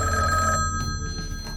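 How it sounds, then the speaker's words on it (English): An old princess-style telephone rings with a steady electric bell tone, loud and close, continuous across the moment with a busy background beneath it. "Look at that old princess phone."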